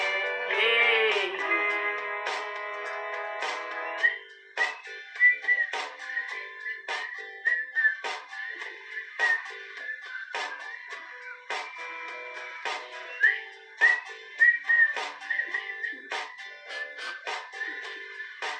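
Someone whistles a melodic tune alone in a quiet room, with clear sustained and rhythmic notes running for nearly twenty seconds, after a brief sung opening.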